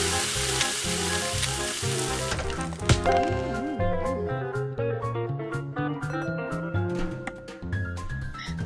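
Food frying for a fried chicken order in the cooking game Cook, Serve, Delicious: steady sizzling layered with upbeat background music and short clicking interface sounds, continuing throughout.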